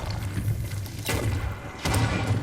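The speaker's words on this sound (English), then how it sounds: "It basically turns your shots into AoE explosion shots." Explosive area-damage shots from a weapon in Firefall land with heavy, booming thuds, two or three distinct blasts a second or so apart, loud and close with rumbling tails.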